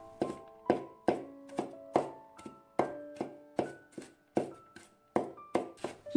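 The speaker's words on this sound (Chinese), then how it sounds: "再给它剁成蒜末" A knife minces garlic on a cutting board in about fourteen sharp, close chops, each a crisp knock with a brief ringing tail, landing in a quick, fairly even rhythm.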